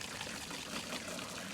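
Water runs and pours through a lawn fertilizer spreader being rinsed, a steady, faint splashing trickle with no voices.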